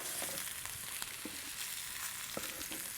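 Floured pork cutlets frying in a pan, a dense, steady sizzle with small crackles and pops throughout, fairly quiet and with no talking.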